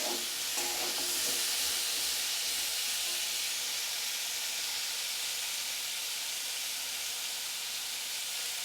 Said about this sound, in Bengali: সমস্ত সবজিগুলো আমি 2 থেকে 3 মিনিট ভেজে নেব।